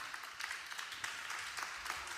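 An audience at a formal ceremony claps, a thin scattered patter of hands that swells and fades in loose bursts at moderate distance.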